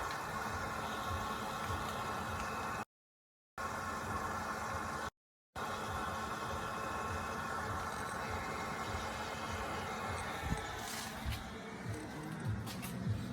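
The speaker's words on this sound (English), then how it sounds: "And you can hear the pump going. It's just pretty noisy until it fills up." Electric fuel pump priming on a 2017 Ford Powerstroke diesel truck after a fuel filter change, a steady faint buzzing whine with brief gaps, continuing alone without talk.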